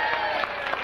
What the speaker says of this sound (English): Cheap applause, I realize